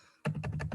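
Keys clatter on a computer keyboard, heard close in a brief run of several quick taps after a moment of near silence.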